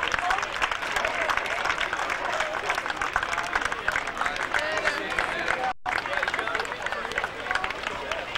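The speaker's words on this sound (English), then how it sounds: "let's give both these teams a nice round of applause" Crowd at a 2001 Philadelphia Catholic League high school baseball championship applauding both teams, a steady dense wash of clapping and cheering held for several seconds, with a brief dropout near the end before it resumes.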